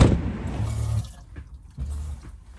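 Water runs from a tap into a sink, a steady splashing flow that stops and restarts in short bursts, close by with no talking.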